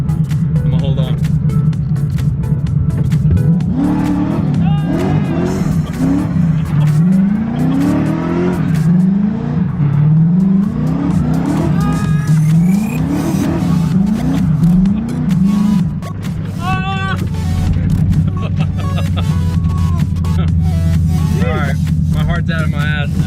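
A drifting car with a VH45 engine doing donuts: the engine revs up and down in repeated swells while tires squeal and skid, loud and close, with people talking over it.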